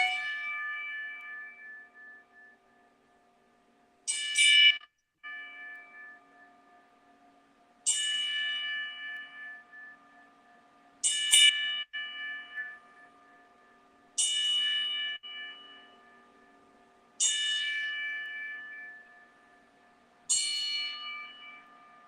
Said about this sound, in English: moment of silence as I do the 10-bell salute